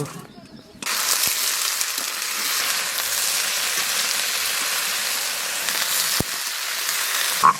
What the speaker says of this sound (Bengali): ভিন্ডি আলু একদম ভেজে নেব।